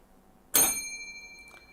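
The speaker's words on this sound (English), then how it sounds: "That was the failure bell." A single bright bell sound effect strikes once and rings on with a clear, sustained metallic tone that slowly fades over a quiet background.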